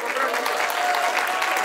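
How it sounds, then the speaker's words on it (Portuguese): Applause and cheering from a crowd at a duo-format rap battle, a dense, steady wash of clapping that fills the whole stretch without letup, with voices mixed into the noise. "Muitas palmas para Aqualtune e Anjos, na moral"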